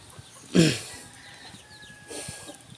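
A small native chicken of bantam lineage gives two short clucks, one sharp and near, then a softer one a second and a half later, with a faint thin tone running between them.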